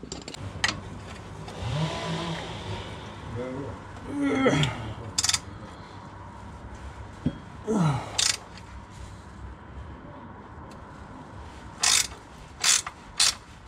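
A bolt on the engine mount of a Renault Clio 2 RS spins with ratchet clicks in short bursts, close up and moderately loud, with scraping metal in between.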